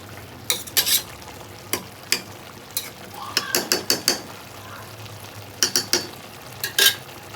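Malabar spinach with prawns and green chilli being stirred in a pan: a series of close, sharp spatula scrapes and clatters come in uneven bursts over a low, steady cooking sizzle, with no talking.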